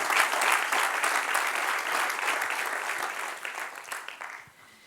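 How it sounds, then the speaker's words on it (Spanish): Church congregation applauding together in a sustained, dense burst of clapping that stays loud throughout and tapers slightly near the end. "Denle un aplauso al que reina"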